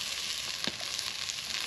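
Potatoes sizzle and fry steadily in a pan over a campfire, a dense, continuous hiss held close throughout, with one brief soft knock partway through.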